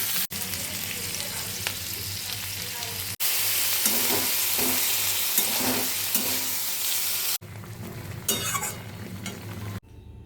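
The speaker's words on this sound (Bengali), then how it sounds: "ফুলকপি আলু দিয়ে চিংড়ি লাল দিয়ে তরকারি করছি" Cauliflower, potato and shrimp curry cooking in a pan, with steady loud sizzling and frying throughout, broken by stirring and scraping of a utensil against the pan, and a few abrupt jumps in level.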